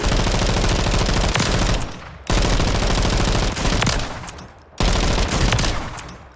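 Long, loud bursts of rapid automatic gunfire from a Ram 7 in a video game, three sustained volleys separated by short pauses, dense and harsh up close.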